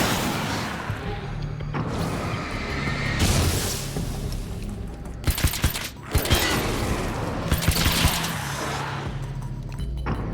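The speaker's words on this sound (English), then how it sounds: "You get a flare gun to the face." A flare gun fires in the game Alan Wake's American Nightmare amid heavy combat. Loud repeated shots and booms crackle close by, with sharp cracks clustered midway and again near the end.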